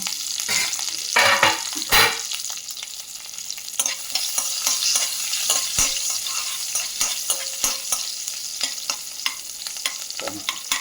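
Finely chopped green chillies fry in hot oil for a fenugreek leaf chutney, with a steady crackling sizzle broken by frequent stirring clatters and scrapes, close and fairly loud, no talking.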